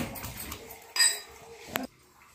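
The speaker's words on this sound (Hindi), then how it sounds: "इन सभी को दरदरे कूटेंगे।" Green chili, ginger and garlic are coarsely pounded in a stone mortar (khalbatta) for Besan Ghati, giving two distinct hard strikes with a clinking ring, near and fairly loud against a quiet room.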